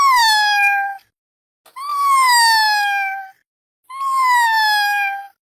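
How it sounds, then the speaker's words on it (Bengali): A cartoon kitten gives three long, clear, drawn-out meows with short silent gaps between them, loud and close with no talk. "কিরে কুট্টুস, তোর কি হয়েছে? মিউ মিউ করছিস কেন?"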